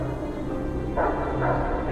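A dog barks in the Guardians of the Galaxy video game, heard as a steady muffled yapping under dense game sound and music, with louder bursts partway through.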